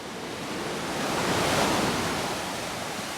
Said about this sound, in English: Maybe wait out some of these bigger waves here.